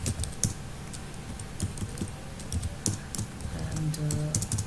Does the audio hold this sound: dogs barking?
no